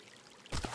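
Water pouring in the mining game Hydroneer, a short burst of splashing flow that starts suddenly after quiet ambience.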